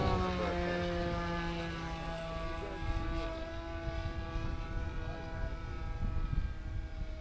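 During a flying lesson, a small propeller airplane's engine drones steadily in flight, a close, continuous tonal hum with a rumbling undertone and slight shifts in pitch.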